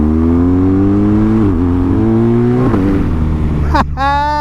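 A motorbike engine revs steadily with rising and falling pitch, close and loud, then a sharp throttle blip near the end; the rider talks over it.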